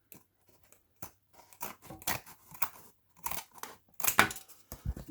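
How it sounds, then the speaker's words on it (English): Scissors snip and cut through paper while a book's signatures are trimmed, a series of close, crisp, irregular cuts and rustles that grow louder toward the end, with no talking. "you cut it away with your scissors quite easily."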